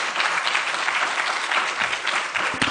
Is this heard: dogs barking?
no